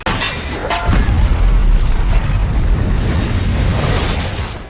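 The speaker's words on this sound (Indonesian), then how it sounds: "Ledakan yang terjadi membuat ruangan itu menjadi runtuh" A loud, deep explosion booms through a room in a ghost film about a night guard and a mirror ghost, followed by a sustained roaring rumble of the room collapsing, with no voices.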